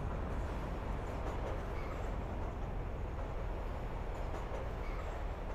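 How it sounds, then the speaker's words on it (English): A train rumbles past in Fernbus Coach Simulator while driving a coach through Poland, a steady broadband roar with no distinct onset, heard from inside the cab without talk. "That was a train."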